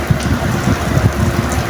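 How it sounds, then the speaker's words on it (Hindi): Heavy rain pours steadily after a hot day, a dense, continuous patter and hiss of drops striking nearby surfaces, loud and close with no talking. "बारिश फुल स्पीड से आ रही है।"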